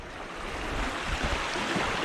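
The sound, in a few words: ocean waves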